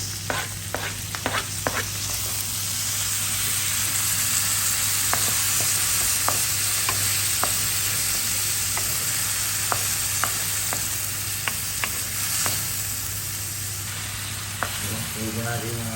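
Onions and tomatoes sauté in a pan for beef kaldereta, a steady loud sizzle close by, broken by sharp clicks and scrapes of a spoon stirring throughout.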